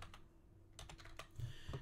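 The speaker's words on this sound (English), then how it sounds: "So we're going to make a password real quick." Someone types a password on a computer keyboard: a quiet, close run of irregular key clicks and taps over a couple of seconds, with no talk.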